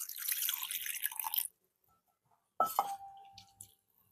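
Water is splashed and poured over drumsticks being rinsed in a bowl in a kitchen, a short burst of sloshing followed by a brief clink and trickling drips, close and fairly quiet with no talking.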